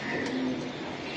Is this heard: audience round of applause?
no